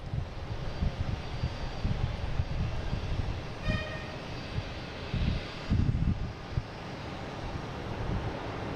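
An airliner from London Heathrow arrives at Boston Logan, its engines a distant, steady rumble mixed with wind buffeting on the microphone and a brief tonal toot partway through.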